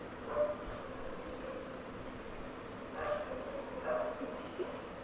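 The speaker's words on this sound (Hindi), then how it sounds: "उसी दिन कुत्ते पता नहीं क्यों भौंकने लगते हैं" Dogs bark outside in short scattered bursts, one early and two more near the end, distant and faint beneath steady room noise.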